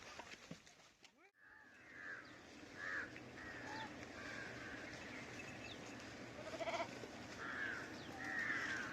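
A herd of sheep on the move with shepherds in rural Maharashtra, with repeated bleats rising over a steady outdoor background and people talking throughout.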